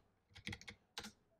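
Keys clacking on a computer keyboard while a web address is typed in, two quick bursts of close, crisp keystrokes with a short pause between.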